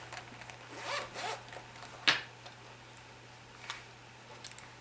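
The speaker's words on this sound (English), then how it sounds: "And let's unzip the other one." A zipper on a crochet hook set case is pulled open in a few quick rasping strokes, close up and fairly quiet, with light clicks and handling noise between.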